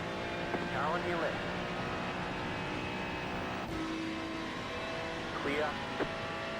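Race car in an IMSA sim racing game at Watkins Glen drawing alongside, engine notes rising and sweeping past twice, moderately loud under a steady background drone with a voice speaking.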